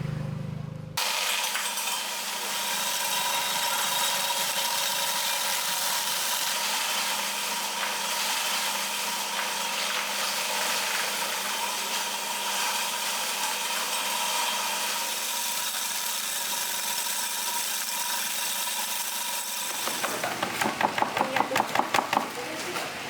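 An engine-driven shredder chops organic waste for compost, running loud and steady for about twenty seconds with a mechanical rattle, then winding down into irregular knocking and clatter.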